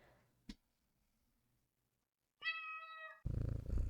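A cat in a game's kitchen setting gives a short clear meow after a brief click and near-silence, followed by a low rumbling purr, close and moderately loud.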